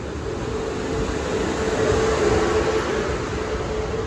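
South Western Railway class 450 unit 450033 at Southampton Central, having terminated on a service from Winchester, gives a steady close rumble with a faint tonal hum, holding level throughout without any talking.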